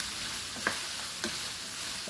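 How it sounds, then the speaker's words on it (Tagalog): Meat browns in butter with finely chopped onion, garlic and ginger for dinuguan, a steady frying sizzle broken by a few light stirring scrapes, close and alone. "sasama ko na siya sa pagpapapula ng karne"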